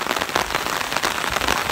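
Rain pours down in a dense, steady hiss of countless drops striking a surface, loud and close with no voices over it.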